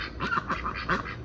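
Homestead chickens, seven hens with a rooster including barred rocks, chatter with a run of quick, close clucking calls, five or six nasal bursts in steady rhythm with nothing else heard.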